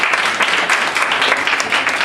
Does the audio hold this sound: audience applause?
yes